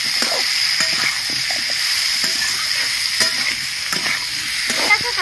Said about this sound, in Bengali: আলুটা দেখুন একটু ভাজা ভাজা হয়ে গেছে